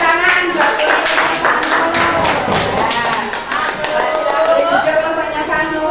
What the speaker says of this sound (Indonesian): tepuk tangan buat